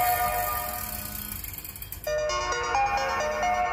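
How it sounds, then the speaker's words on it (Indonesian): A telephone rings indoors at a house in a comedy horror short film, starting as a clicking, ratchet-like mechanical sound before switching to a bright, repeating melodic ringtone that continues loud and close. "Nah, ada telepon nih."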